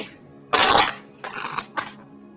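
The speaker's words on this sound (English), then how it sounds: "I don't know why people like to see the card shuffle live" Tarot cards shuffled by hand in three quick bursts of riffling and flicking, the first loudest and longest, followed by two shorter bursts, close up with no talking.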